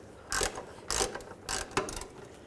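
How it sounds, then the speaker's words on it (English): A ratchet with a 14mm socket tightens sway bar link bolts on a 1996-2004 Nissan Pathfinder, giving four short bursts of quick metallic clicking, close and fairly quiet, with no talk. "take a 14mm socket and tighten these down"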